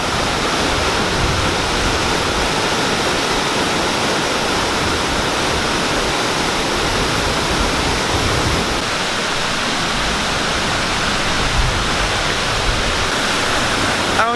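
Flood water roars over Sliding Rock, a natural rock waterslide, in a loud, unbroken wall of rushing noise that holds steady throughout and shifts slightly in tone partway through.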